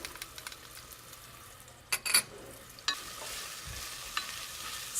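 Onion, garlic and dried oregano sizzle gently in olive oil while a utensil stirs them around the pan, a soft, continuous fry with a few brief scraping clinks standing out.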